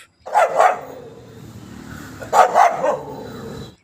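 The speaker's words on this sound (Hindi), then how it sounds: "कुत्ते की आवाज़ कुछ ऐसी है" Dog barking in two short bursts, each a couple of quick, loud, close barks separated by a pause, with a faint low rumble in between.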